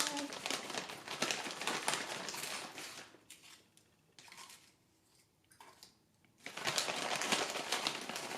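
Broken crackers go back into a plastic bag, giving a close, busy crinkling and rustling that drops to near quiet midway and then picks up again loudly.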